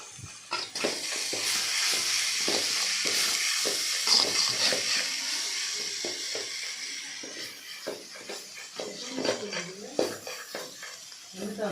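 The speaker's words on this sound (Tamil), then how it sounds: "பிறகு நல்லா கிளறி விட்டு இறக்கிடலாம்" Ponnanganni greens stir-fry with grated coconut being stirred in a pan, with soft sizzling and repeated scraping and clinking of the utensil, while a person talks over it.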